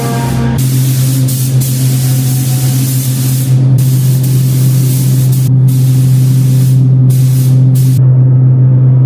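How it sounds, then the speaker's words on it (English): A spray gun hisses in long bursts laying down primer on a car body, starting and stopping several times over a steady loud compressor hum. "spray the primer down, or the sealer, and then we spray right on top of that"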